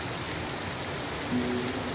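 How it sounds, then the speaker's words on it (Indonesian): Heavy rain pours down in a steady, dense hiss that fills the whole stretch without a break, loud and close, with no voices over it. "Begitu hujan turun"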